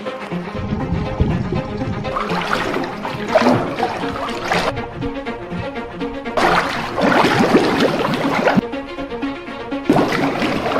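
People plunge into a cold pool clutching weights, sending continuous splashing, sloshing and churning water that swells in loud bursts, close by with no speech.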